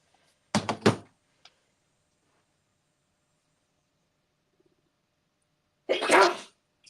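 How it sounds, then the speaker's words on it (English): A sharp double sneeze bursts out near the start, then quiet, followed by a breathy exhale or nose-blow several seconds later. "And I'm going to sneeze."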